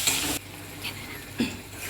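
Spices for chana curry (turmeric, chilli powder, grated ginger and garlic, tomato sauce) frying in a pan, a soft sizzle under a few brief spoon-stirring scrapes, close and quiet.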